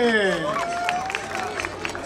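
Crowd applause for a pet named Dick at an outdoor pet festival, with clapping and cheering under a loud, whooping voice and crowd babble throughout.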